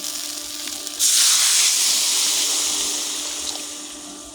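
Water pours into a pot of hilsa fish curry with potato and green banana, a sudden loud rushing hiss that starts abruptly and slowly tapers off.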